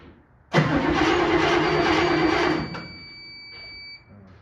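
A 1959 Chevrolet Impala engine cranks loud and close as the starter churns for about two seconds, then drops to a weaker grinding that fades out without the engine catching.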